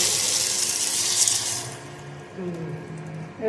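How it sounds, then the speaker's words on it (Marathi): Water gushes into a cooking pot for pulao in a loud, steady stream for under two seconds, then stops, leaving quiet voices talking nearby. "आता पाणी घाल."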